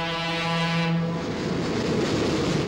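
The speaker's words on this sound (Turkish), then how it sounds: "7:45 treni geçti." A train passes by at 7:45, a long sustained horn blast sounding loud and close before giving way to the rumbling roar of the moving cars, no speech.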